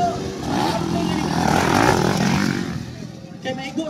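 A motocross motorcycle revs at a raceway, a rising and falling engine drone heard at moderate distance under an announcer's voice.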